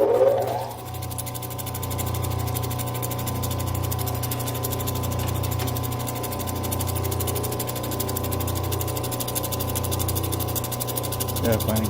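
A Genie lapidary machine with a Diamond Pacific Galaxy diamond wheel grinds fire obsidian, giving a steady, continuous motor hum and grinding whine that stays even throughout.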